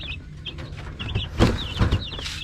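Chicks in a chicken coop, heard nearby as high, thin peeps scattered throughout, with rustling and a couple of low bumps beneath.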